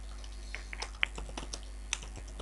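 Keys tapped on a computer keyboard while typing in MS Word, a close, quiet, irregular run of light clicks with a steady low hum underneath.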